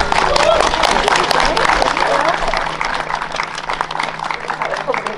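Church congregation applauding after an infant baptism at an all-age Sunday service, a dense, steady wash of clapping from a large indoor crowd lasting several seconds with a slight fade toward the end.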